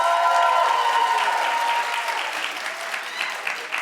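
A crowd claps together, loud at first and slowly thinning out, with some tonal sound ringing underneath early on.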